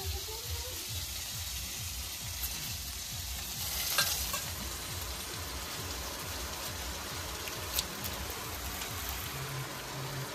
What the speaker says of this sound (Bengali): কচুটা সুন্দর করে আমি কষাই নিচ্ছি